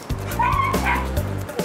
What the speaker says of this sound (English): It takes over 2 months to teach a dog like Diesel how to sniff the most minute traces of gunpowder.